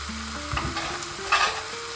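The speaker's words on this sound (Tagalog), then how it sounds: "Now, we're gonna throw in the beef." Scotch fillet beef searing in a hot pan for caldereta, a steady frying sizzle with stirring scrapes and a brief louder hiss burst partway through, close and alone without talk.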